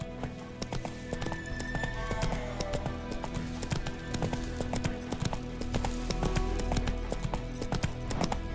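Roach, the horse from the video game The Witcher, galloping, with rapid, steady hoofbeats drumming close and loud throughout, set against a continuous game soundtrack and ambience.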